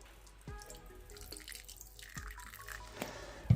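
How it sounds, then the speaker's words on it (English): Water pouring from a tap into a tarantula's water bowl, a thin trickle with a few splashes and drips, close and alone. "fill up the water bowl"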